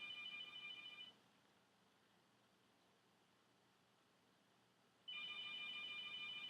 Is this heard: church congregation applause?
no